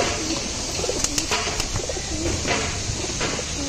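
Several Allahabadi pigeons in a loft coo softly in overlapping low, throaty calls against a constant background hiss, with no one speaking.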